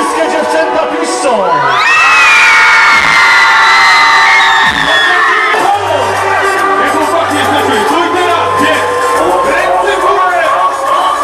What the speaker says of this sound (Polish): Wszystkie dziewczęta piszczą!